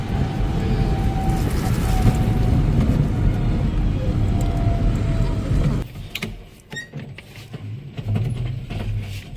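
Idling vehicles bunched up at a closed railway crossing gate, a steady close engine rumble and drone that cuts off abruptly partway, leaving quieter street sounds with faint voices and clicks.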